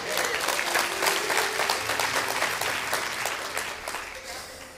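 Congregation clapping at a worship service, a steady dense wash of many hands that stays loud throughout before easing slightly near the end, with a voice faintly audible beneath.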